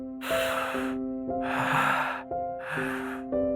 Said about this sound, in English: Deep breath in, and deep breath out.